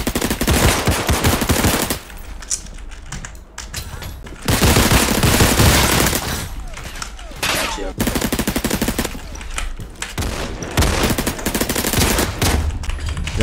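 Rapid automatic gunfire from the video game Criminality, loud bursts of shots in several volleys separated by brief quieter gaps.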